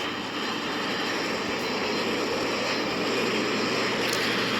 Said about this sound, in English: Chat, I think the plane is coming, chat, but it's already taking off.